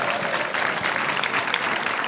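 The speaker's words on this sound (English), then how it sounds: "Can we get one more round of applause for Gretchen Rubin, please?" A crowd at a talk by Gretchen Rubin gives a continuous, full round of applause, dense and sustained from start to finish.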